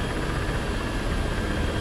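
A powerful gunship helicopter of roughly 5,000 shaft horsepower in the DCS flight simulator gives a steady, dense roar of turbine and rotor noise, constant in loudness and without talk.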